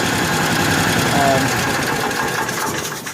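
A 1955 Cushman Truckster engine turns over on a 12-volt battery, a loud, steady, continuous churning drone that holds for about three seconds, close to the mic.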